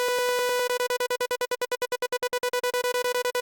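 A Serum 2 synth arpeggiator fires a rapid, evenly pulsed stream of bright, buzzy harmonic notes from one held key, starting as a sustained tone and then chopping into steady staccato repeats, loud and alone.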